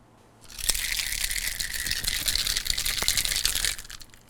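Ice rattling inside a cocktail shaker during a homemade margarita-style drink, a dense crunchy clatter that starts abruptly and churns steadily for about three seconds before stopping, heard alone.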